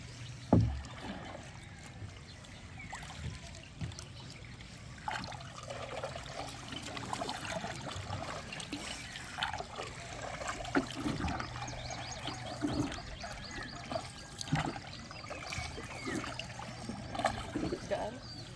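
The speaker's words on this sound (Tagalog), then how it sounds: "at test drive tayo ng bangka" Small wooden boat, a bangka, out on the water in the provinces, with steady splashing and trickling and a low hum throughout, no clear voices.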